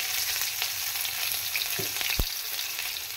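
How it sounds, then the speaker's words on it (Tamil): Onion and garlic sautéing in a home cooking pan, a steady close sizzle with a couple of brief utensil clinks, no talking. "இது கொஞ்சம் வதங்கட்டும். கொஞ்சோண்டு வெங்காயம்."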